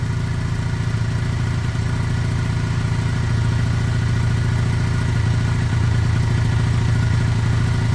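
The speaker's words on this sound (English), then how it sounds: "See, this seems to have some sort of choke system. Look, that's revved up" A small 125cc Lexmoto Michigan motorcycle engine runs steadily at raised revs, a continuous buzzing drone with a light mechanical clatter, close and loud, no talking.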